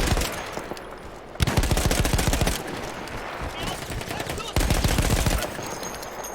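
Emplaced machine gun in the World War I shooter Battlefield 1, crewed by Austro-Hungarian troops, firing in loud rapid bursts with short pauses between them.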